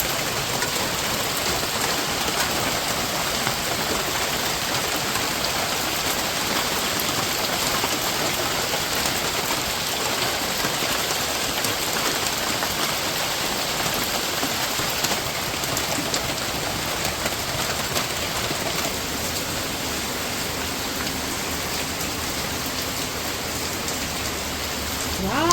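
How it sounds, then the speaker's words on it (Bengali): Steady rain falling in a rural village under trees, a dense continuous hiss of drops on surfaces, even and fairly loud for the whole stretch with no talk. "এই যে বৃষ্টি বৃষ্টি শুরু হয়ে গেছে।"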